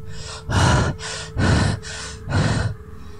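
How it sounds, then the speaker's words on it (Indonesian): Heavy, labored breathing close by from four people trekking through forest on Mount Slamet: three loud rasping gasps alternate with softer breaths in a steady rhythm, like someone winded from exertion. "Suara nafas mereka berempat bergantian bersautan mengiringi perjalanan."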